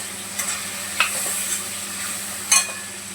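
Tomato frying in hot oil in a pan for a home vegetable dish, a steady bright sizzle with a fan humming underneath and a few sharp spoon scrapes; close and fairly loud, no voices.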